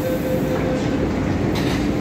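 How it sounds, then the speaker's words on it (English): Steady rumble and rattle of a Hong Kong MTR M-Train leaving a station on the Tsuen Wan Line between Lai King and Kwai Hing, continuous and close, with a brief high squeal early on. "Wait for the train to leave."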